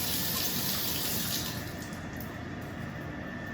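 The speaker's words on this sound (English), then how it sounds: "I'm gonna wash my hand." Water runs from a tap while a hand is washed, a steady close gushing splash that eases slightly partway through.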